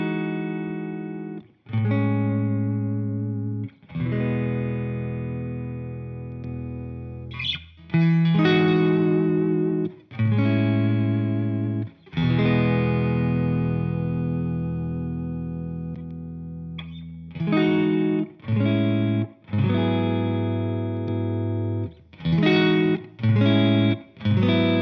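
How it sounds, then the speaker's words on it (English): James Tyler HSS electric guitar played through effects, sustained distorted chords and notes ringing out in separate phrases with short gaps, loud and alone, first with the preamp off and then with it on. "I'm going to show you the difference between the tone with no preamp and then the tone with the preamp on"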